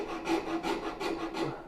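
A rasp files across wood in five steady back-and-forth strokes, each a coarse scraping burst, close and fairly quiet with no voices.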